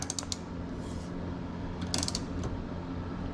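A hand wrench ratchets on the dry carbon front splitter of a Mustang GT350R, quick clicking pawl bursts near the start and again midway over a low steady garage hum, close and fairly faint.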